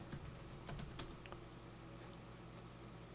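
Soft, close keystrokes on a computer keyboard in a quiet room, a brief run of typing with a few clearer taps, while entering a Modbus unit ID.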